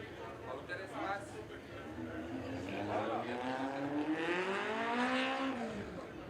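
Race cars in the Auto Aid 1660s class at a regional circuit race pull out onto the track, rising and falling engine notes sweeping past at mid distance under a commentator's voice.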